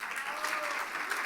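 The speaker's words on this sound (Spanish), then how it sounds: "por favor, un aplauso" An audience applauds as doctors are called up one by one at a ceremony, a short, steady wash of clapping at moderate level with a faint voice carrying through underneath.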